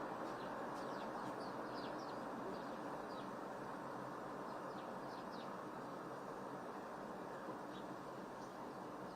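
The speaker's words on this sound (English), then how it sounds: "Do you guys hear the birds now?" Birds chirp faintly in scattered short calls over a loud, constant generator-like rumble on a live outdoor feed from Kyiv, the birdsong thin and distant beneath the steady hum.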